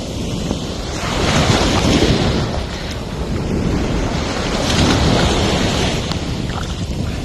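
Ocean surf rolls onto a Miami beach at sunrise, a loud continuous wash of breaking waves swelling and easing, with heavy wind buffeting the microphone and no talk.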